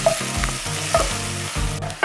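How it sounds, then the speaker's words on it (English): Onions sauté in a pan as coconut beans are prepared, giving a steady close sizzle with stirring scrapes and a few sharp clinks of the utensil against the pan. "So I'm going to fry this for about 5 minutes until they start to turn golden brown."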